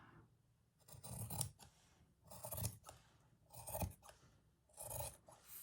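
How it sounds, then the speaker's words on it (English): Four separate snips of scissors cutting fabric for a doll's dress, each a short rasping crunch, evenly spaced about a second apart, close and fairly quiet. "Just going to cut."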